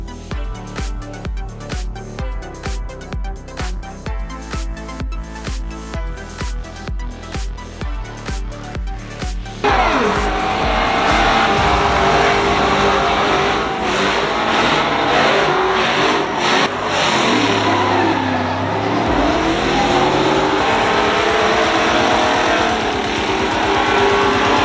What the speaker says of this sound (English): He literally stepped out of the truck and let it continue doing a burnout.